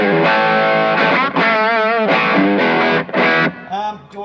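Electric guitar driven through an MXR Duke of Tone overdrive pedal rings out with gritty, crunchy riffs, several short bursts with bends and wavering held notes, loud and up front, with no talking.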